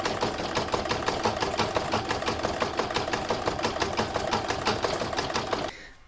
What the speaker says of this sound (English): Next is round number 7, which is going to do the satin stitch all the way around the edge.